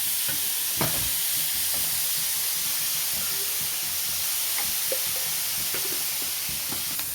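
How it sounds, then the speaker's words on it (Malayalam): Sliced onions with salt frying in a pan, a steady hiss and sizzle with occasional small crackles and stirring clicks, close and continuous with no talk. "ഇപ്പം സവാള വാടാനായിട്ട് നമുക്ക് കുറച്ച് ഉപ്പ് പൊടി ഇടാം കേട്ടോ."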